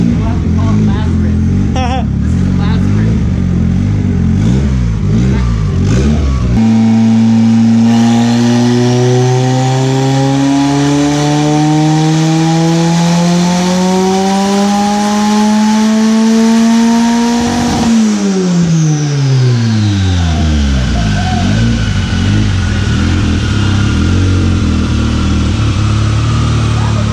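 A close, loud engine turns over, catches, then revs smoothly upward in pitch for several seconds before winding back down.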